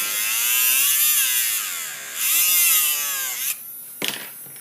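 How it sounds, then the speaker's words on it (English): A small Tamiya Mini 4WD pinion gear is filed down, giving a close, continuous high whining buzz that wavers in pitch, then breaks into a few short scraping bursts at the end. "file the pinion gear."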